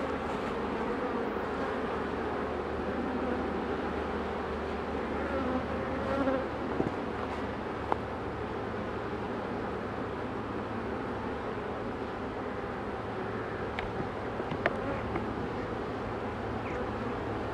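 Honeybees buzz around a beehive moved three metres from its spot in a dense, steady hum, with individual bees droning close by now and then and no one talking.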